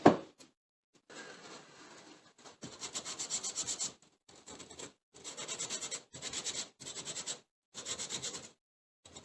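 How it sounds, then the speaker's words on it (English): A wooden sign is sanded by hand in a series of rasping back-and-forth strokes, each burst separated by short pauses, close and clear with no talking. "this would not be the only sanding that this project would require"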